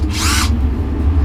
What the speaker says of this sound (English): Then we need our drill for pilot holes and our driver.